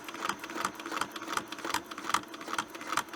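A sewing machine stitches along a quilting ruler template, producing a quick, even mechanical chatter of repeated needle strokes at close range and fairly low level, with no voices.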